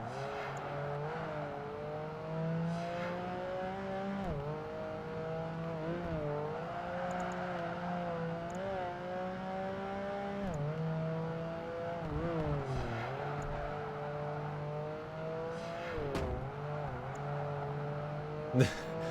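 Honda NSX race car engine in Project Gotham Racing 2, a steady droning engine note that rises and dips with gear changes and throttle, moderately loud and continuous with occasional sharp clicks.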